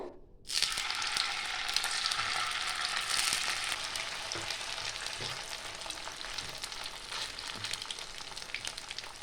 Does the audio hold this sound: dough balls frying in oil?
yes